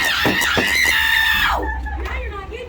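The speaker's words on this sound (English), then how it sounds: "Can you imagine like screaming like that all night long?" At a Six Flags Fright Fest haunted attraction, an actor lets out a long, loud, shrill scream that breaks off abruptly, followed by quieter voices nearby.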